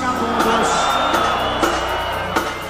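Concert crowd of men yelling and whooping together on cue at a São João festival show in Recife, a loud sustained roar with music and a few sharp accents.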